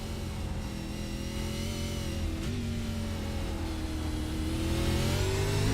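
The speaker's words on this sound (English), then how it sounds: "you heard he just rev that engine up" A race car engine revs hard in a road course race, one loud sustained roar whose pitch dips briefly and then climbs steadily, alone with no talk.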